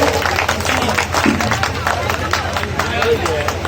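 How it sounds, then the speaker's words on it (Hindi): A crowd claps at a Buddhist-rite wedding held without mantras, a steady patter of hands under continuous speech and background babble. "आप लोग ताली बजा दीजिए, ताली ताली बजाइए"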